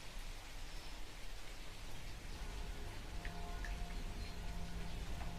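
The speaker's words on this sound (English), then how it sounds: "Now let's walk around in the rain and be sad, because this game is very sad." Steady rain falls in the sad video game Manus Dei, a soft even hiss of drops that continues throughout at low level with no voices.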